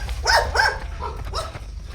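Dog barking outdoors in a town's poblacion area, heard while jogging: four short, sharp barks spaced about evenly at moderate distance, fairly loud over light background noise.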